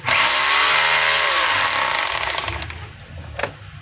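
A DeWalt D25032 rotary hammer runs loud and close with a high motor whine for about two seconds, then winds down into a fading rattle, ending with a brief sharp clack.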